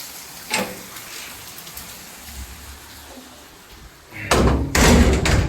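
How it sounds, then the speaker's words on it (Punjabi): Steady rain hisses on a surface, then turns louder and heavier near the end, with a bump or knock early on. "ਦੇਖੋ ਕਿੰਨਾ ਮੀਂਹ ਆ ਬੁਰਾ ਹਾਲ ਕਰਤਾ ਮੀਂਹ ਨੇ"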